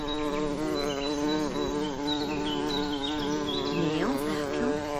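A cartoon bee buzzes steadily as it flies off, a loud continuous insect drone with wavering pitch and a quick swoop near the end, with no voices.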